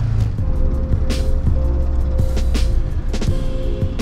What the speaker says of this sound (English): Engine's making crazy noise. My brakes are loud as hell.